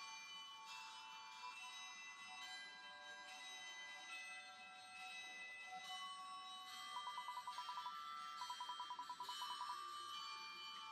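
Bell chimes in the fan-made game Dusttale, bright sustained tones layered over game music, then quick repeated ringing bursts near the end, moderately faint and without voices.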